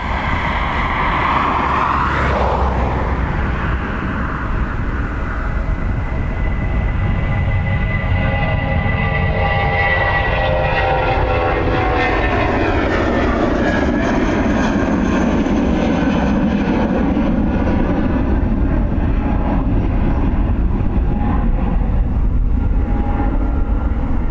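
A British Airways Embraer jet at Dublin Airport rumbles steadily and loudly throughout, its engine tone sweeping and shifting as it passes near, with no talk over it.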